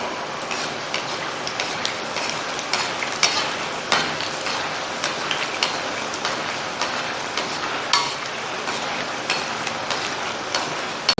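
Samosas frying in hot oil over a medium flame, a steady dense crackle and sizzle with small pops throughout, close and continuous with no talk.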